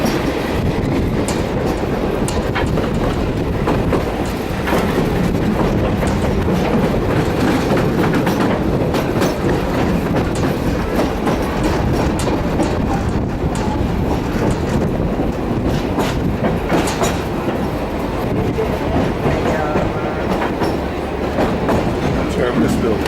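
Train carriages and wagons roll steadily along the rails on a European journey, a continuous close rumble with a faint clickety-clack running through it and no break for the whole stretch, while people talk now and then over the noise.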